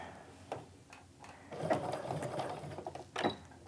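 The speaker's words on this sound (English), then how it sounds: "I'm gonna stitch right over my stitching line from before and get that nice and set in there." A sewing machine stitches a fabric wristlet made from fat-eighth scraps, running in a short, fairly quiet burst of rapid mechanical whirring and ticking close to the microphone.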